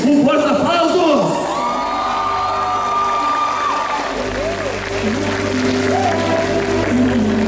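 Crowd at a cosplay awards ceremony claps and cheers loudly and steadily, with whoops and children's shouts mixed in and a host's amplified voice calling out over the din.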